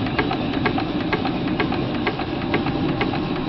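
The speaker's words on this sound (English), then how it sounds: "the clicking and clacking we hear is the piston rings and probably the slide valve" A Virginia City steam engine runs under steam, its piston rings and slide valve clicking in a fast, steady, evenly spaced rhythm over a constant mechanical rumble, close and fairly loud.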